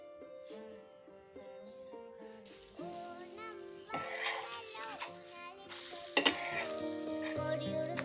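A simple, healthy breakfast fries in a pan as it is turned over. A soft, continuous sizzle with a few sharper crackles sits under steady tonal background music.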